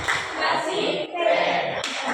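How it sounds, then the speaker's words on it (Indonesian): An audience in an Indonesian training session doing a rhythmic 'tepuk top' clap, a short burst of quick group claps close by, mixed with a few voices talking. "Oke, kita beri tepuk top."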